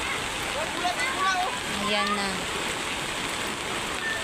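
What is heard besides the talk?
heavy rain and flood water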